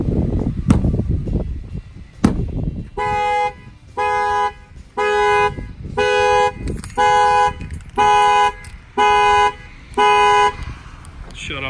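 A Chevrolet Camaro's security alarm blares nearby in a steady series of identical electronic bursts, about eight evenly spaced pulses, following some rustling and clunks.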